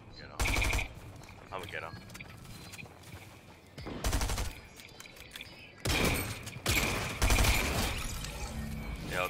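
Loud bursts of rapid gunfire in a Fortnite Battle Royale duo or squad match arrive in three separate clusters, with game sounds between them. A player talks briefly during the shooting.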